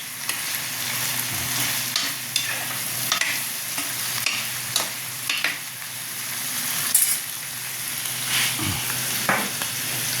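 Goat caldereta ingredients sautéing in a pan give a steady frying sizzle with intermittent stirring scrapes and clinks throughout, moderately close, with no talking.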